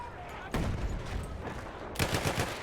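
Battlefield 1 firefight with the Obrez rifle, sharp gunshots cracking out in separate bursts, one near the start and a cluster toward the end, over a rumbling battlefield bed and some talk.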